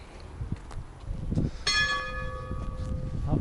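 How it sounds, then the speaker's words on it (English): A church bell strikes in a small Czech town's main square at Svitavy, a clear metallic toll with a long ringing decay rising over low outdoor street rumble, moderately near. "Oh, and the church bell's ringing."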